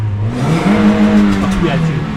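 A Daihatsu Terios engine is blipped with a light touch of throttle, its revs climbing quickly and holding high before settling, loud and close, with someone speaking over it.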